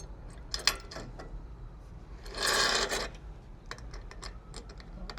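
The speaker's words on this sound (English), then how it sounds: "since I don't have the correct hardware, I have to use a ratchet" A hand ratchet tightens a nut onto a roof rack bolt while a flathead screwdriver holds the bolt, giving rapid clicking bursts and a longer rasping stretch in the middle, close and clear, with no talking.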